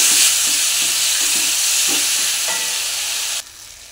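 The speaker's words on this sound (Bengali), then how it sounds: "ভালো করে মশলাটা ভেজে নেব" Spice masala with chili powder and ground tomato fries in a pan with a loud, bright sizzle and periodic stirring scrapes. The sizzle cuts off abruptly near the end, with no voices present.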